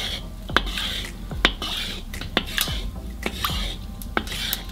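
A utensil scrapes and clinks against the walls of a hot cast-iron kazan while it is greased with sunflower oil. The sharp metallic taps come close and repeat at an irregular pace over a steady low hiss, and nobody speaks.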